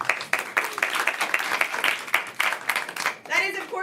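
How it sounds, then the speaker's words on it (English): Audience at a live evening comedy show clapping, scattered hands applauding in a brief uneven burst, with voices and chatter running underneath. "Clap for a clean show."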